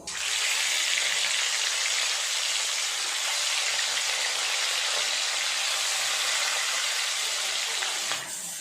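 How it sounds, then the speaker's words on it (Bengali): Bhetki fish pieces frying in hot oil, a loud, even hiss of sizzling close by that holds steady throughout, with no voices. "তেলটা গরম হয়ে গেলে মাছগুলো আস্তে আস্তে ভাজা করে নেব"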